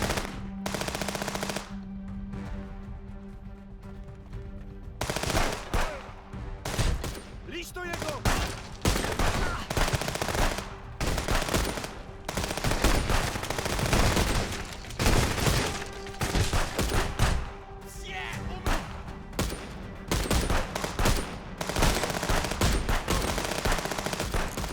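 Sustained machine gun fire from enemies in the top-down shooter Wizard with a Gun, loud repeated bursts with short pauses running throughout, with occasional speech underneath.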